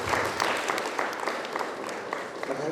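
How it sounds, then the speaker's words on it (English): Audience applause for a student at an English-medium school gathering, a dense patter of many hands clapping steadily and fairly close for a few seconds. "We should clap for it."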